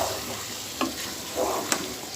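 Potatoes and spinach stir-fried in a pan over high heat, a steady low sizzle with two sharp utensil scrapes and a brief swell of frying noise, close by with no talking.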